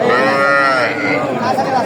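Bull calves at a cattle market in Ranigonj, with a loud, close drawn-out moo lasting almost two seconds.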